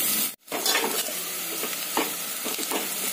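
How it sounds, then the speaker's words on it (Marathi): Onion fries in hot oil for chicken biryani, a close, continuous sizzle broken by a brief gap and then by several spatula stirs and scrapes in the pan. "कांदा आपण ब्राऊन रंगावर परतवून घेणार आहोत"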